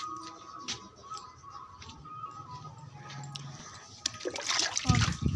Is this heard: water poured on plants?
yes